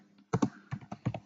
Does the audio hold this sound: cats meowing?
no